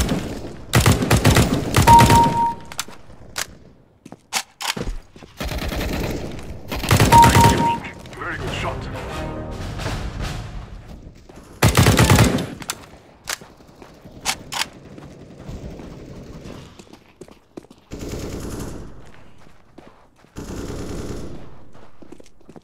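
Automatic gunfire in a Counter-Strike: Global Offensive deathmatch against bots, with loud bursts of rapid shots in several volleys, separated by quieter gaps with footsteps and faint game sounds.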